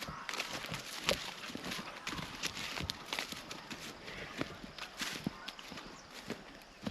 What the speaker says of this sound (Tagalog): Yung alaga ating kambing, oh, si George.